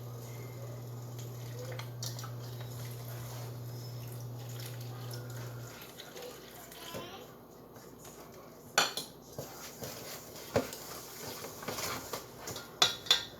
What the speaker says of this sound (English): I'm actually going to use the whisk a little bit more until it gets a little more incorporated.